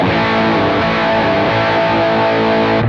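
Electric guitar chord through a JET Pedals Lamb overdrive rings out steadily with rich harmonics, loud and sustained for about three seconds, no talking.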